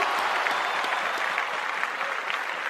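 Audience at an award ceremony gives a strong, continuous round of applause, dense hand clapping filling the hall without pause.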